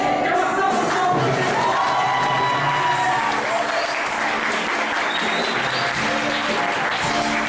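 Congregation applause during a weekly evangelical church service, a loud, dense, steady wash of clapping filling the room throughout, with faint voices mixed beneath.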